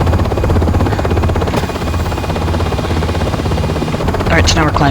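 A UH-60M Black Hawk helicopter climbs out in the Aerofly FS4 flight simulator, its steady loud rotor and turbine drone continuous throughout, with a voice briefly audible near the end.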